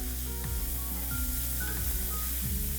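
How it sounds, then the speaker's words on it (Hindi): Chopped onion hits hot spiced oil and sizzles with a dense, continuous hiss that stays loud and close throughout, while faint stirring scrapes sound beneath it. "उसके बाद तुरंत गरम गरम में चॉप किया हुआ प्याज"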